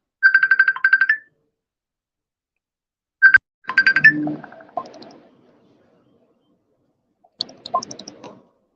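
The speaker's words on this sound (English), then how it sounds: "Oh, the phone's going crazy now." A phone ringtone sounds in a few short bursts of bright, repeated electronic tones, with pauses between them and a quiet setting around it.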